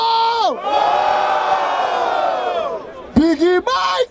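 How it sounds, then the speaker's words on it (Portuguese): At a rap battle semi-final in Barueri, a crowd cheers and shouts in a loud sustained roar, with sharp whoops and yells bursting out near the end. "Barulho para as rimas do Magneto!"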